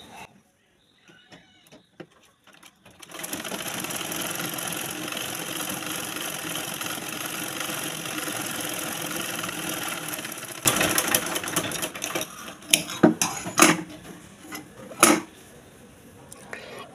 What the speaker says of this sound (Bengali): আমি মাঝখানে আরও একটি সেলাই দিয়ে আপনাদেরকে দেখাচ্ছি